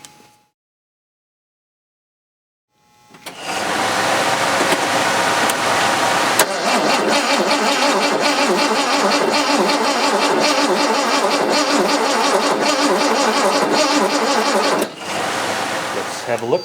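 After a moment of silence, a Jaguar E-type engine cranks and catches, then runs loud and steady, cutting off near the end before resuming.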